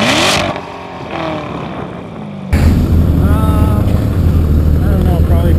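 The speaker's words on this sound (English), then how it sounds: "Give me a good rev back here." A race car engine on an ice racing and rallycross course revs hard close by, rising and falling with a sharp jump in loudness partway through, while people talk underneath.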